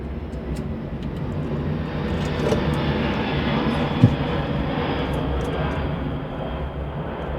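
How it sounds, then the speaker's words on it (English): Airplanes fly overhead outdoors during a Sea-Doo repair, a steady distant engine drone that holds across the clip with a single sharp click partway through. "Oh, lots of planes today."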